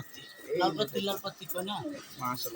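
Pigeons coo softly at a pigeon market, low rolling calls close by mixed with a man's speech.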